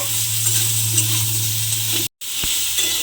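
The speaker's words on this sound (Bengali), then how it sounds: "দিয়ে একটু নাড়াচাড়া করে ভেজে নেব।" Small pieces of ridge gourd frying and being stirred in a pan, a dense and loud continuous sizzle heard close up, broken once by a moment of silence before the sizzling resumes.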